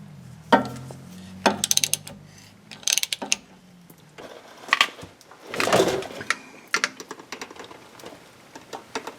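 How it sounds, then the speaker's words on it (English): Socket wrench ratcheting a rear axle plug on an IROC-Z barn find, with short bursts of close metallic clicking separated by knocks and clanks from the tool against the axle. "come back with a socket wrench and"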